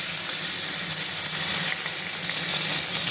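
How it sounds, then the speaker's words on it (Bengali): Hilsa fish pieces frying in hot oil: a dense, steady close sizzle that holds at an even loudness throughout. "ইলিশ মাছগুলোকে একটু সাঁতলে নেব"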